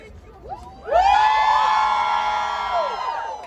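A rally crowd in Allentown, Pennsylvania bursts into loud cheering and whooping, a sustained wall of voices with shouts rising over it that swells suddenly and then slowly tapers off.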